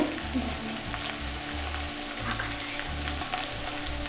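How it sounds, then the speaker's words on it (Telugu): Steady, dense sizzling of oil frying in a pan for mutton pulao, close and continuous, with a faint low rumble pulsing underneath throughout. "ఇట్లా వేగాలన్నమాట. కొంచెం వేగుతుంటే"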